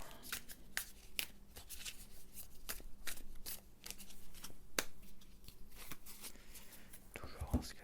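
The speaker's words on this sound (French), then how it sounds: "Je vais tirer une deuxième carte." Cartomancy cards drawn and shuffled in a quiet close-up setting, with a string of soft crisp card slaps and flicks in an irregular rhythm. A voice speaks softly underneath.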